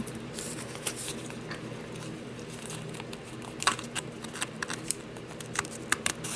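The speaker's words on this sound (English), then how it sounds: "And these are detail scissors." Small detail scissors snip repeatedly at close range, a series of sharp little cuts with light rustling and crinkling between them, while cutting out a gingerbread man ornament, no talking.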